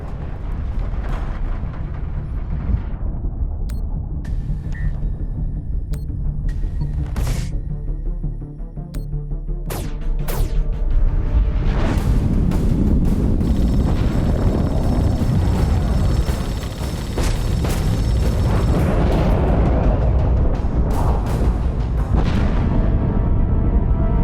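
Torpedo fire and explosions in The Expanse: A Telltale Series, heavy rumbling booms and blasts building into a loud, sustained roar with sharp bursts scattered through it.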